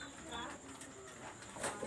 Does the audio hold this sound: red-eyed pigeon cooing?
yes